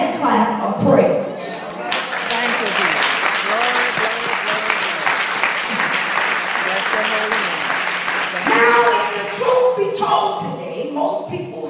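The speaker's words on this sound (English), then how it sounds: "give the God of our salvation a hand clap of praise" A church congregation gives a sustained hand clap of praise to God, with cheering and voices mixed in, steady and loud for several seconds before tapering and swelling again near the end.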